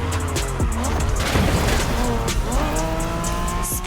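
A Honda NSX, the 1990s sports car, races in The Crew Motorfest video game, with a loud, continuous engine drone that rises and falls through gear changes, along with tire squeal, all close and steady throughout.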